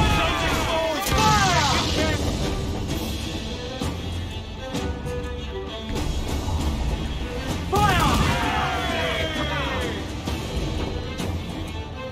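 Ship cannons firing in Assassin's Creed IV Black Flag boom and crash repeatedly amid a dense, noisy naval battle, with shouted voices and whistling, sweeping effects layered over a constant loud din.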